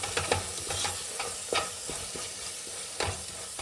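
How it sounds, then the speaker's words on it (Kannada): Garam masala and coriander powder fry in hot oil while a spoon stirs, producing a low steady sizzle punctuated by several sharp scraping strokes at an uneven rhythm. "ಗರಂ ಮಸಾಲ ಈಗ ಫ್ರೈ ಮಾಡೋಣ"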